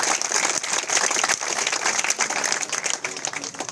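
An audience at a community gathering applauds the swimmer Shakeel, dense steady clapping filling the room for a few seconds without pause.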